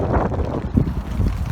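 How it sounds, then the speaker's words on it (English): Strong wind buffets the microphone in a steady roar with some rumbling gusts, wet stormy weather outdoors, no voices. "Oh my god, it's so windy, it's so wet."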